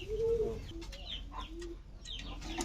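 Running pigeons in a loft coo and flutter nearby, giving soft repeated calls mixed with other bird sounds and a faint low hum.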